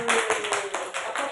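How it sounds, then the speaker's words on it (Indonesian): A short burst of group applause in a teachers' session, steady clapping from several people in appreciation, close and fairly loud with no talk over it. "tepuk tangannya buat apresiasi dari Bu Yani."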